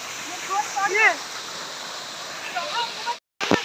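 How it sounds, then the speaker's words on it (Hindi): Steady rushing water pours continuously from the nearby Devjhar waterfall in Sambalpur, while voices talk and call out over the roar. "देवझर झरना वाटरफॉल"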